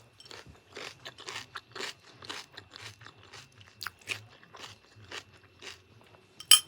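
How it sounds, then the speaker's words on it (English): Close-up chewing of a salad topped with everything bagel seasoning, with a rapid series of crisp, wet crunches in an uneven rhythm and no talking. "I'm beginning the camera so y'all can hear the crunch."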